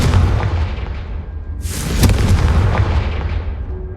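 Confringo, the fire spell from the video game Hogwarts Legacy, goes off in a single loud booming blast that cuts sharply in mid-clip, with a rumbling tail fading over the following seconds.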